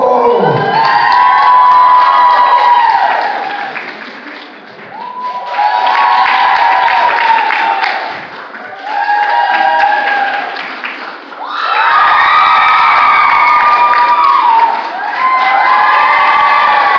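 A Burbank audience at a 2019 fan contest erupts in loud cheering, whooping and clapping in several bursts, each swelling for a few seconds and dipping briefly before the crowd roars again.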